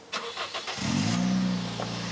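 A Honda Mobilio RS car engine cranks after a few clicks and catches, settling into a steady, close idle rumble.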